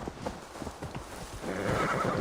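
A horse whinnies in the video game Assassin's Creed Valhalla, a clear drawn-out neigh with hoof clip-clops, moderately loud and heard alone without talk.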